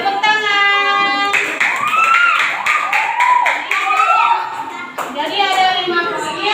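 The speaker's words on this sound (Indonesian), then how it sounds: "Oke, baik, tepuk tangan." A class of schoolchildren claps in quick rhythmic bursts, crisp and close, mixed with children's voices and a chiming musical tone.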